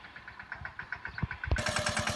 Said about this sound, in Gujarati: બે ટ્રેક્ટર નાખી રહ્યા છે